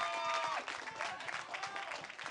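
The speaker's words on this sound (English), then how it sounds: "The Evolution crowd has something to celebrate." Football crowd at a national youth league match cheering loudly after a goal, a dense sustained roar with whistles and clapping that stays strong throughout.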